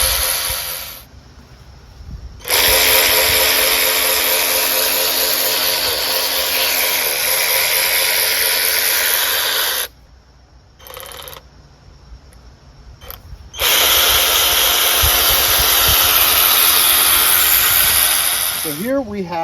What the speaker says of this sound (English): So here we have a 10 millimeter socket on the ratchet. Now that's tightening it.